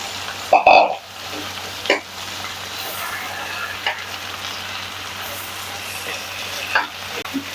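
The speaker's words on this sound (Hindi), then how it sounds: "गोभी को हमने अच्छे से मसाले में मिक्स कर दिया है" Chopped cabbage (gobi) being stirred into sizzling masala with green chilies in a pot for gobi gosht, steady close frying hiss broken by a few sharp scrapes and knocks of the spoon.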